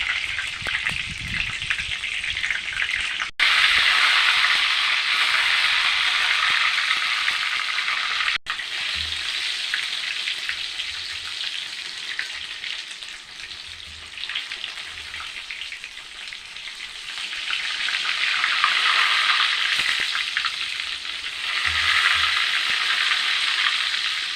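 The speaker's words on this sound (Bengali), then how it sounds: "এই দেখো বন্ধুরা তেল গরম হয়ে গেছে, এখন আমি বেগুন দিয়ে দেব" Brinjal (eggplant) slices frying in hot oil for a spicy Bengali egg-brinjal dish, a continuous loud sizzle and crackle that swells and eases, broken by a few faint clinks and sharp clicks.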